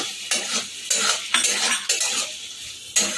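A metal spoon stirs masala bhindi (okra) in a pan, scraping and clinking against the metal in several sharp strokes at uneven intervals over a soft background sizzle, close and fairly loud.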